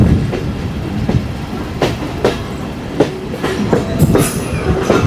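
The Mahananda Mail train runs along the rails toward Darshana, with a loud, continuous rumble and repeated clickety-clack wheel beats over the track joints, heard close from on board.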